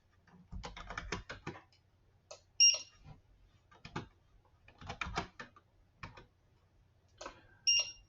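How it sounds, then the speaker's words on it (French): Keys tapped in short irregular bursts on an Android PDA keypad while entering stock quantities during an inventory count, with a couple of brief electronic confirmation beeps between the close, dry clicks. "Je vais donc utiliser mon PDA pour lire les codes à bas et taper la quantité en stock, puis OK ou Entrée sur votre PDA."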